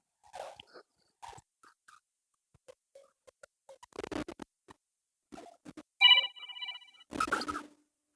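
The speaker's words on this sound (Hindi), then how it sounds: "कर फोन बजा तो मोबाइल छोड़ गए का ही।" A mobile phone ringtone chirps out in a home scene of a comedy sketch, a short, bright, tonal ring that rises clearly above scattered faint clicks and rustles, followed by a burst of louder noise.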